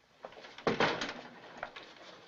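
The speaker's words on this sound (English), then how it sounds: "Hey, Mama, where you reckon Charlie got that bird?" A bird coos softly in a quiet indoor scene, a few faint low calls with a brief louder burst near the middle, nobody speaking.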